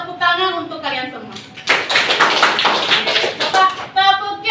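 A classroom of students clapping together in a loud, steady burst of applause lasting a few seconds, with a teacher's voice talking before and after it.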